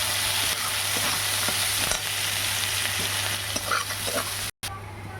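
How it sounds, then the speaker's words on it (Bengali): Chopped garlic and onion with green chilli sizzling steadily in hot oil with whole cardamom and cloves, a continuous close frying hiss with a few light stirring clicks, ending in a brief cut. "কুচনো রসুনটা দিয়ে দিলাম, এরপর পেঁয়াজ কুচি দিয়ে দিলাম"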